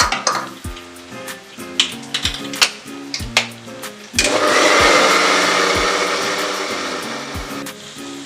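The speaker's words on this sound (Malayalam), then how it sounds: "എന്നിട്ട് ഒന്നുകൂടെ ഒന്ന് അരച്ചെടുക്കാം." A kitchen blender grinds beef with added salt, a loud continuous whirring churn that starts partway through after a run of clanks and knocks from pots and utensils.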